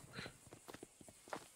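Horse hooves clip-clop at a walking pace in Red Dead Redemption 2, a series of soft, uneven thuds at moderate distance with no talk over them.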